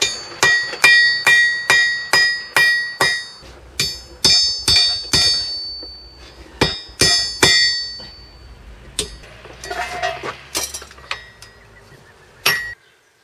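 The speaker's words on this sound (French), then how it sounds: "je vais le marteler à chaud sur son point faible, c'est-à-dire la tranche" Hammer blows on a hot Damascus steel billet struck on its edge, a rapid rhythmic series of bright ringing clinks in bursts, with pauses and some softer scraping between groups.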